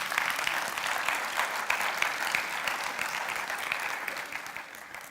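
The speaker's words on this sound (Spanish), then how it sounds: "Denle un aplauso, Señor." A church congregation claps steadily in dense, continuous applause at a Spanish-language service, loud and sustained from start to finish with no talking over it.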